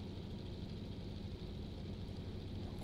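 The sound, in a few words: DHC-2 Beaver engine running in video game X-Plane 11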